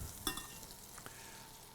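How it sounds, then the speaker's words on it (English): Butter melting in a hot pan gives a soft, faint, steady sizzle with a few small crackles and pops early on, close by and without speech. "Let's go ahead and add some butter to the pan. Yep, it's melting."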